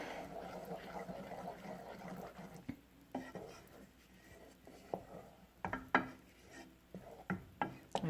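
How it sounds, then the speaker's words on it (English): Maple syrup mixture stirred in a pot, with a quiet scraping swirl and then a series of sharp knocks and clinks of the utensil against the pot, close and faint. "I'm just going to stir it up."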